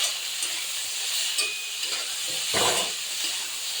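Fig and potato curry with turmeric and salt being stirred in a hot pan, soft steady sizzling with faint scraping strokes, quiet and continuous, no talking.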